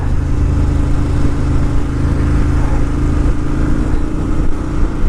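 A 2018 Ducati Monster 1200S motorcycle fitted with a Termignoni exhaust, ridden on the road on new tyres in cold weather, gives a loud, steady, deep engine drone that holds throughout with no pauses.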